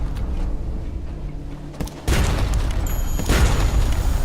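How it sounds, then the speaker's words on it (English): A deck weapon fires in the Sunless Sea video game: one sudden deep boom cuts in partway through, then a sustained heavy roar that stays loud to the end. "Fire! Click on the deck weapon."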